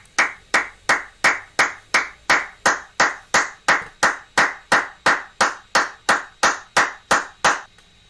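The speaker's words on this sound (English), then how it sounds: "this is the time for which I have captured my clapping" One person claps alone about twenty times at a steady, even pace, each crisp clap standing out clearly in a quiet room.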